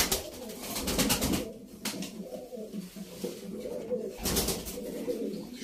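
White pigeons coo softly in a loft, with repeated low throaty calls over a rustling background and occasional louder noises.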